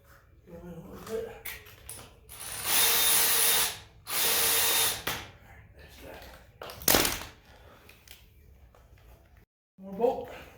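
A ratchet turns a bolt during engine and transmission removal from the top of a 2008 GMC Acadia, heard as a few loud, harsh mechanical bursts of a second or two each, with a voice talking between them.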